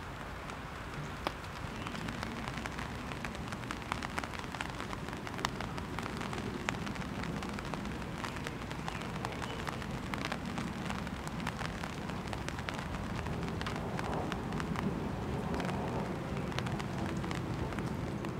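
Steady rain falling around a parked car in a garden setting, a dense, even patter with occasional sharper drips, constant and close throughout with no voices.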